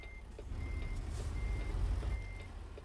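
Reversing beeps from a truck in American Truck Simulator, a steady run of evenly spaced high electronic pips sounding over a deep engine rumble as the rig backs up slowly.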